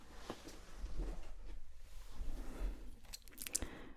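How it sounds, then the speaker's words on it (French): A pair of scissors snipping close to the microphone in a quiet ASMR setting, with a few soft, crisp cuts and light handling noises spread unevenly across the moment. "il faut que je prenne ma paire de ciseaux"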